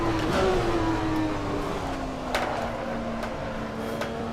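A BMW race car in Assetto Corsa revs under steady acceleration at Willow Springs, its engine note a continuous tonal drone that slowly falls in pitch, loud and close throughout with no talking.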